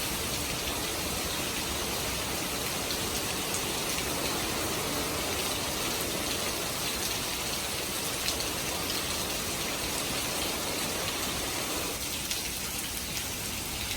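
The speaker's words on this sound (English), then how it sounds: "It's rained so much that everything is flooding." Heavy rain from Hurricane Sally pours down in a dense, unbroken hiss, loud and constant across the whole stretch, with no voices or breaks.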